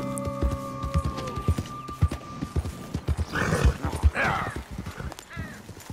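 Horse hooves clip-clopping in Red Dead Redemption 2, a steady rhythmic trot that slows and stops, with a horse snort or whinny and some game ambience toward the end.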